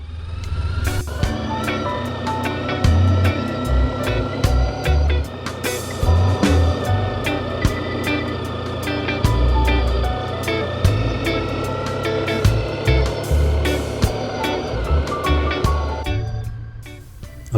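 Motorcycle riding through the town of Badalatosa in Spain, a loud continuous engine drone with shifting revs and wind buffeting, close to the rider, with no voices.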